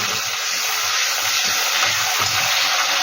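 A steady, loud, broadband hiss with a faint low rumble, water boiling hard in a pot for cooking shrimp, continuing without pause and with no voices.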